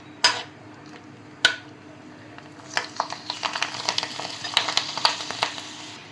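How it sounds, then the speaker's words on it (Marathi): Puffed bobby snack frying in hot oil for Vidarbha-style chivda, with faint, irregular crackling and sizzling that grows busier after a couple of sharp clicks near the start. "तर आपण बॉबी तळूया."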